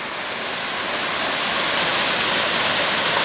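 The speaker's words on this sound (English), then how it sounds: "just there is a phenomenal looking waterfall, but we can't quite get to it" Steady, loud roar of a waterfall at Torridon in the Scottish Highlands, a dense unbroken rush of falling water heard alone and close enough to fill the scene.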